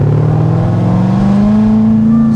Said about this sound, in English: I hope you guys liked the noise from the outside of the car